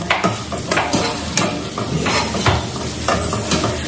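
Onions fry in a pan while a utensil stirs them, with a steady close sizzle broken by repeated scraping strokes across the pan, and no voices.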